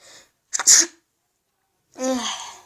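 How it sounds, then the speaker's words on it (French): A person sneezes, a sharp, close burst after a brief intake of breath, followed about a second later by a second breathy exhale, with silence between. "Excusez-moi, je suis éternuée."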